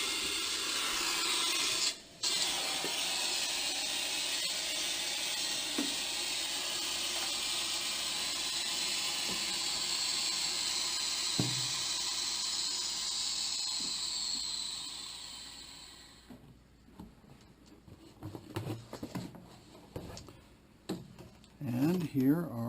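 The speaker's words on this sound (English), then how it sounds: "We'll release the vacuum." A Harvest Right freeze dryer vents its vacuum with a loud, steady airy hiss lasting about fifteen seconds before fading out, followed by scattered handling clatter and some voices.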